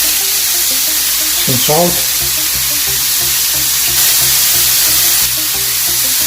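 Peppers, zucchini and black beans sizzle steadily in a skillet for quick one-pan quinoa, a continuous close frying hiss with light stirring, while a voice briefly speaks over it.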